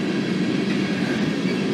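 A freight train passes on the rails in Walsenburg, Colorado, giving a steady, loud, close rumble with a broad noisy roar that holds evenly throughout, no voices over it.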